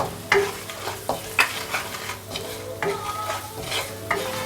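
Green chillies frying in hot oil for aloo bharta, a close sizzle punctuated by several clanks and scrapes of a spoon against the pan.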